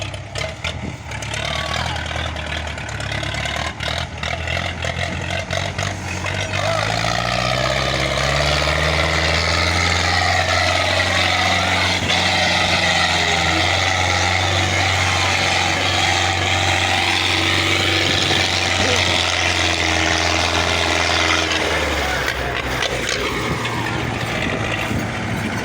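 A tractor engine labours hard on a difficult road, a loud, sustained drone whose pitch climbs and falls as it strains, with the roar easing near the end.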